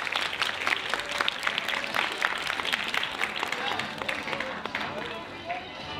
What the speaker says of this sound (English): Now you can give a round of applause.